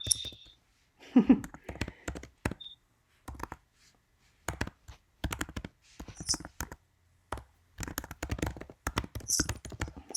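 Someone types on a computer keyboard in quick bursts of close, crisp key clicks with short pauses between them, while a voice talks faintly now and then.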